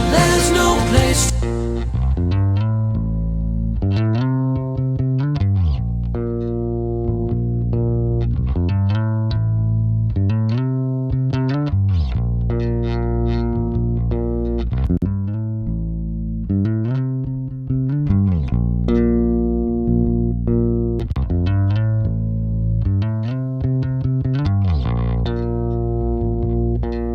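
Bass guitar sitting in an unprocessed song mix, a steady low melodic line running under full-band chords at even, moderate loudness for the whole stretch, with no speech.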